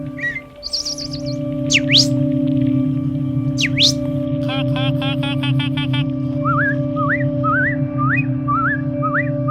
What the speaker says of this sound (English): Rufous-sided towhee. It's a great little song. Is say it's like drink your tea.